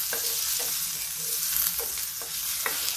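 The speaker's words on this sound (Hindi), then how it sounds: "अब इसी समय हम इसमें डाल देंगे प्याज।" Onion and garlic frying in a hot pan for a dhaba-style dal tadka, a steady close sizzle with soft stirring scrapes and small crackles throughout, no voices.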